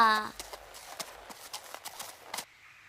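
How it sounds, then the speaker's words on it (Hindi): Hooves from a zebra clatter in a quick, irregular run of sharp clip-clop beats that fades and stops, following a brief tonal call at the start. "ज़ेब्रा"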